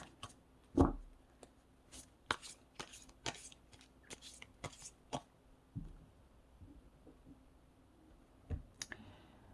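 Tarot cards being shuffled and drawn at close range, giving a quiet run of sharp clicks and papery snaps in uneven bursts, with a deeper knock early on and another near the end.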